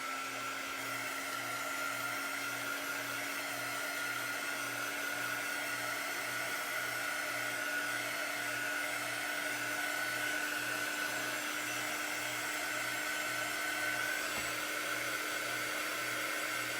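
A hair dryer dries a chalk craft transfer, giving a loud, steady whooshing whine with a pulsing low hum that runs continuously throughout, alone without talk.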